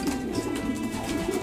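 Doves coo inside a loft, a soft rhythmic low warble repeating over a steady background murmur of many birds, with no talking.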